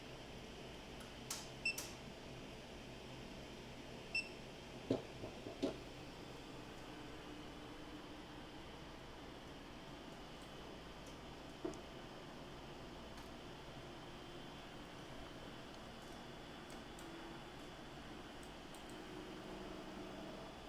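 Creality Ender-3 V3 KE 3D printer printing: steady low mechanical whir with a constant hum, punctuated by a few faint clicks and ticks, no voices.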